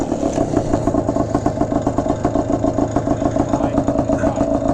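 A 1970 Yamaha DT1 250 Enduro two-stroke motorcycle engine runs steadily nearby with a rapid, pulsing buzz and mechanical clatter, holding an even idle throughout.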